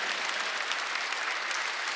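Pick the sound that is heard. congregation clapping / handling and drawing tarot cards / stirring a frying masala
congregation clapping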